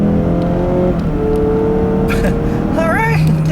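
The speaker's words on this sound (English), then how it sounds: "Got that turbo kicking in." The 2.5-liter turbocharged four-cylinder of a 2018 Mazda CX-9 pulls in sport mode, its engine note climbing through a couple of rising tones, heard from inside the cabin under a loud steady road and engine drone.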